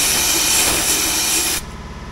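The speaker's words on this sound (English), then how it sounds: "So this sprays straight out of the end of it" Compressed-air straight sprayer blasting WoolWax undercoating on an F150, a loud steady broadband hiss that cuts off sharply near the end, leaving quieter background noise, with no talking.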